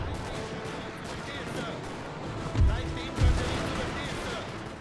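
Close-range musket volleys in Napoleon Total War, a Prussian army battle: two heavy booming bursts stand out over a constant din of distant gunfire and battle noise.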